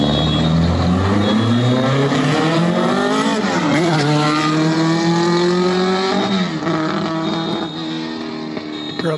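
A car revs and races with a loud, continuous engine whine whose pitch sweeps up and down, with tire squeal mixed in and no talking.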